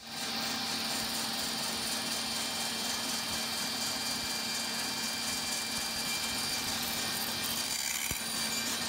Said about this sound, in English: all that's left to do is to cut the kerf, which I'll do right now.